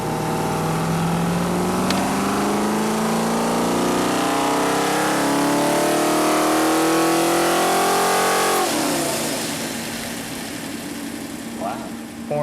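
A rebuilt junkyard Mopar 360 V8 revs up under load on an engine dyno, rising steadily and loudly for about nine seconds before easing off to a lower rumble, with people talking over it.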